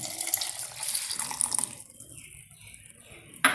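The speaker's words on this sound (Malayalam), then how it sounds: "കാച്ചിയ പാലാണ്, അത് ഇതിലോട്ട് ഒഴിക്കുകയാണ്." Boiled milk poured into a mixture of puffed rice and mango makes a splashy, running stream for nearly two seconds, then fades to a faint trickle, ending in one sharp knock.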